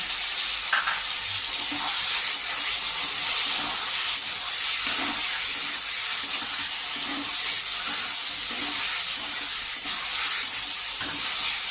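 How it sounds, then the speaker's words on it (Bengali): Spice paste with tomato fries in a pan for katla fish curry, a steady loud sizzle and hiss with occasional stirring scrapes throughout. "মশলাটা আমার অর্ধেক ভাজা হয়ে গেছে"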